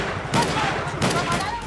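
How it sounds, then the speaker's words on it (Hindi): Gunfire and blasts ring out as police fire tear gas shells to control a crowd of protesting tribal villagers, two loud bursts of shots and explosions over a constant roar of noise. "गोलियां चल रही हैं, धमाके हो रहे हैं, हर तरफ अफरा तफरी मची है।"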